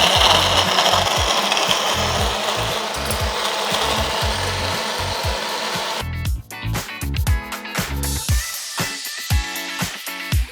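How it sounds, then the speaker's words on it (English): A blender whirs through a fruity smoothie of frozen berries, natural yogurt, chia seeds, milk and honey, loud and steady at first, then turning into a choppier, pulsing churn as the motor runs on. "let's blend"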